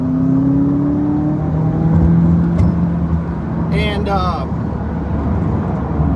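A car driving along a road, with steady engine and tyre rumble running throughout; someone talks over it for most of the stretch, and a brief higher whirring sweep rises near the end.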